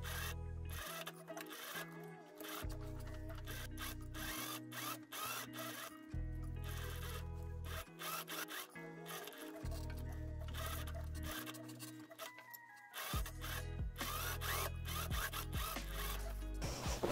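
Sewing machine stitching a seam with a one-sided foot: steady rapid mechanical whirring and clatter in several runs of a few seconds, separated by short pauses, close and alone.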